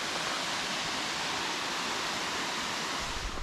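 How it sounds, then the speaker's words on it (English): Bluff Falls waterfall and its creek in a gorge in Burrowa–Pine Mountain National Park, a steady, loud broadband rush of falling and flowing water that holds unbroken for the whole stretch. "So I'm back down at Bluff Falls."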